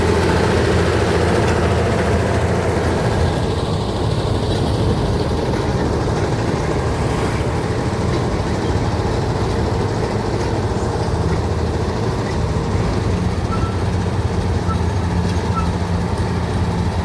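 Wireless-built steam locomotives at a sugar factory, a loud continuous low rumble and chuffing engine drone that holds steady throughout, close by with faint voices mixed in.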